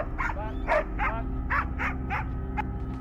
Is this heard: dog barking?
yes